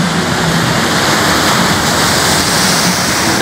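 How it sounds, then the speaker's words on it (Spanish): Sea waves break on the shore near Torreón del Monje during a fishing outing, a loud, close, continuous roar of surf and rushing water. "El mar, un espectáculo."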